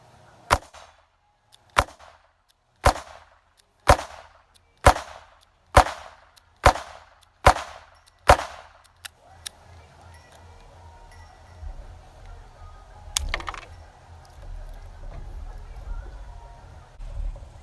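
A Taurus Model 94 two-inch .22LR revolver fires nine sharp, evenly spaced shots, loud and close, followed by quieter handling noise and faint background rumble.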